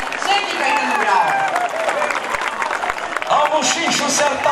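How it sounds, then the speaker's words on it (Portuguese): A crowd at a gaucho parade for Gaucho Culture Day applauds and cheers, with dense sustained clapping under a loud announcer's voice speaking over the noise throughout. "Aplausos ao Jaime Caetano Brau!"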